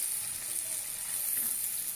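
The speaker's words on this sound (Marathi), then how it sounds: "या सर्व भाज्या आपल्याला थोड्या फास्ट गॅसवर छान अशा परतून घ्यायच्या आहेत" Cabbage and other vegetables sauté over a high flame on a large pav bhaji tawa for Mumbai-style tawa pulao, giving a steady, even sizzling hiss that runs without break and without talk.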